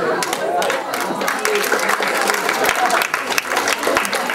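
Audience applause fills a hall during a quiz contest, steady dense clapping from a crowd that holds at a constant level throughout, close and fairly loud.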